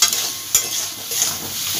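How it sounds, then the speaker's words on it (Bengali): Onions frying in a pan while being cooked for a Bengali potol (pointed gourd) dish: a steady close hiss of sizzling with a few brief stirring scrapes, no talk. "পেঁয়াজটা ভাজা হোক।"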